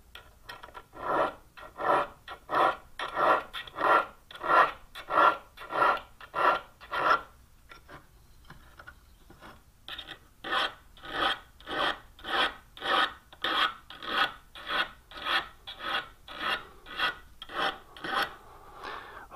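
A hand file rasps rhythmically against a small metal sash profile scraper being shaped to a rounded profile, each stroke a distinct push of steady tempo, close and alone, with a short pause partway before the strokes resume.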